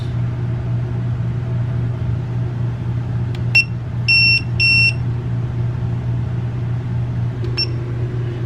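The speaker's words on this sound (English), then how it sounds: "We're going to hold the code button down until it sets off the alarm." An Eez tire pressure monitor sounds its alarm while a sensor is programmed, giving a few short, sharp electronic beeps in quick pairs over a steady low engine-like hum, then one more beep near the end.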